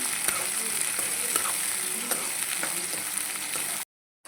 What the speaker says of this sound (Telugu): ఆనియన్స్ అండి ఆనియన్స్ బాగా మగ్గాలి